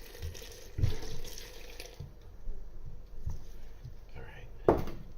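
Lukewarm water is poured into a bread dough mix of sugar and instant yeast, a soft running splash under and between bursts of nearby talking.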